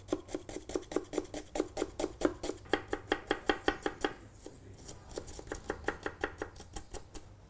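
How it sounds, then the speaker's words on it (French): Two peeled onions are sliced with a knife on a board in a quick, even run of crisp taps, about three per second. There is a short pause partway, then the rhythm picks up again, close and clear. "On va émincer les 2 oignons épluchés."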